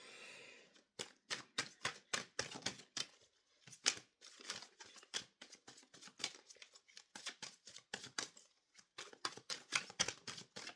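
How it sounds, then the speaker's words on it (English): Soft, rapid riffling and slapping of tarot cards being shuffled, repeated in quick bursts with brief pauses, quiet and close. "Let's just shuffle the cards."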